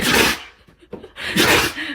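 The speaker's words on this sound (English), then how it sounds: "Fake sneeze in front of your dog." A person fakes a loud sneeze in front of a dog, with two bursts of breathy noise at the start and end, separated by brief quieter vocal sounds.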